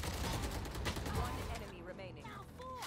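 Rapid gunfire bursts from a Valorant match, including an Operator sniper rifle, crackle densely and loudly under an excited commentator talking throughout, with game effects fading out toward the end.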